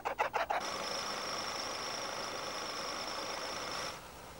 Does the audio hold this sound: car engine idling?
yes